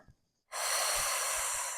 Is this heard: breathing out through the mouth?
yes